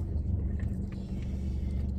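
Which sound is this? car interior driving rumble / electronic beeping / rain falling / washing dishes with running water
car interior driving rumble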